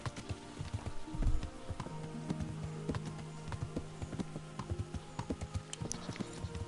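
Horse hooves clip-clop steadily in the Kingdom Come: Deliverance video game, a rhythmic run of sharp, fairly close impacts over a low ambient rumble, with no voices.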